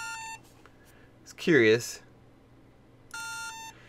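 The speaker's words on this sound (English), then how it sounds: "If I hit the A button to identify, I just get this little beeping noise from my controller." Short electronic beeps from a Steam Controller being identified: a brief steady tone at the start, a voice speaking in the middle, then another short beep burst near the end.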